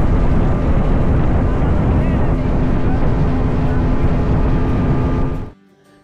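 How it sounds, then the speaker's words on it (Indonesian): Loud, steady roar of a speedboat engine cruising along a river, droning continuously with wind buffeting the microphone, then cutting off abruptly near the end. "Buat teman-teman yang penasaran dengan berisiknya suara mesin speed"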